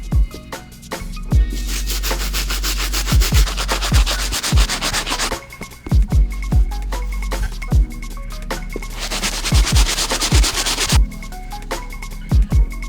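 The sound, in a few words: stiff bristle brush scrubbing sneaker soles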